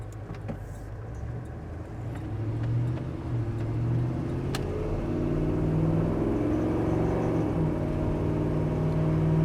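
A 1987 Chevrolet C10 pickup drives along, its engine rumbling steadily from inside the cab and rising gradually as it shifts gears, with no talk.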